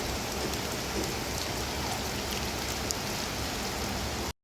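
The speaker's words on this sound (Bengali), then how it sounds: "মুষলধারে বৃষ্টি হচ্ছে" A heavy downpour of rain pours down in a dense, constant roar of drops on surfaces, loud and unbroken until it cuts off abruptly at the end.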